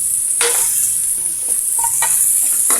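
Vegetables for pansit stir-frying in a pan, with a continuous loud bright sizzle and several scraping, tossing strokes of a spatula at irregular intervals.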